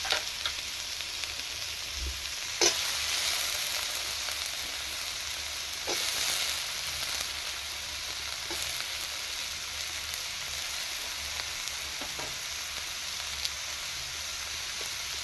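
Beans, leaves and tomato frying together in a pan, a steady loud sizzle running throughout with occasional clinks and stirring taps.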